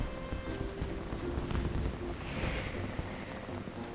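Fireworks going off in the video game Final Fantasy XIV during a ceremony, a muffled, continuous rumble of crackles and booms blended with ambient game noise, moderately quiet, with no talk.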